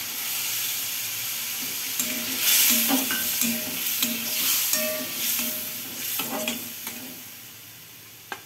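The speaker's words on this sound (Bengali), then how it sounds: "আদা, টমেটো আর লঙ্কা তিনটেকে পেস্ট করে বাটা করে রেখেছি, এটা আমি দিয়ে দিলাম" A paste of ginger, tomato and chilli sizzles steadily in hot oil in a pan for a vegetarian pointed gourd curry, with a spatula scraping and stirring through it in intermittent strokes, close by.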